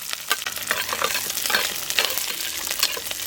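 Small shallots and curry leaves sizzle and crackle in hot oil while being stirred for a Tamil mor kulambu. A dense, continuous frying hiss is heard up close, broken by scraping stir strokes, with no talking.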